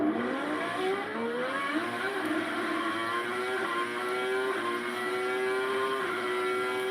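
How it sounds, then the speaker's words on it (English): A 1995 Formula 1 car roars through the British Grand Prix in an onboard recording, its high engine note climbing repeatedly through the gears with a brief dip at each shift. It is loud, close and continuous, with no talk. "I'm going to give you like a full onboard sound of the 1995 British Grand Prix where there's no commentary."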